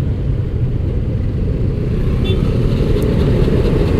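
Motorcycle ride through congested city traffic in Solo, Indonesia, with a steady, loud engine and road rumble and the surrounding traffic noise throughout.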